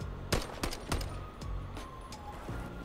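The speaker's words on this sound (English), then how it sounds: "Good shots with the pistol." Pistol shots in a video game shooter: several sharp, separate cracks, a quick cluster early on then a few more spaced shots, loud and close over a low rumbling background.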